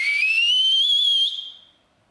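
A person whistles one loud, clear, sustained note that glides slowly upward for over a second, then stops abruptly with a faint tail, no talking.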